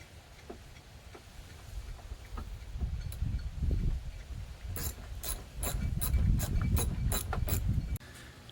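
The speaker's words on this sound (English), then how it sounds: "So now we use our 10mm socket and get the two screws, two bolts out." A ratchet fitted with a 10mm socket backs out the headlamp bolts on a 2018 Ram, making quick clicking runs close by that turn into a fast, bright series of clicks near the end, over low rustling handling noise.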